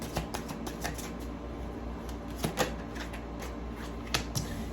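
Soft, scattered papery snaps and slides of tarot cards being handled and drawn, irregular and close, over a quiet background hum with no talking.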